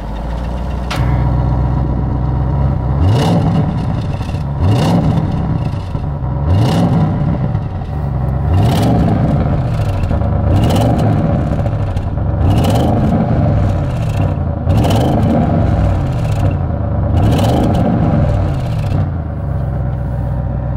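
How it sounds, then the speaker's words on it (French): Audi RS6 twin-turbo V8 in sport mode, revving repeatedly against a 3000 rpm limiter, producing a loud, close, steady series of rising and falling engine blips over a continuous rumble, with no voices. "C'est un bruit de V8 biturbo qui est sympa"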